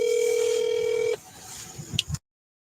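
A steady telephone dial tone hums loudly for about a second during a phone call, then cuts off, followed by faint handling noise and a few short clicks.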